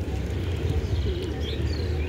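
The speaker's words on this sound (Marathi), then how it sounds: "जिकडे बघावी तिथे कबूतर आहेत." Pigeons coo softly amid a dense flock, low murmuring calls blending with faint chirps and background rustle, continuous and close.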